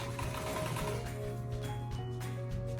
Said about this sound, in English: make sure you sew on the line, and make sure that this one meets the other seam